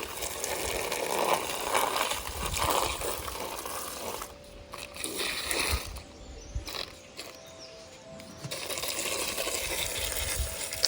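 Water poured over plants in a garden, a steady splashing and gushing that carries on for several seconds, drops away for a stretch in the middle and then returns just as strongly.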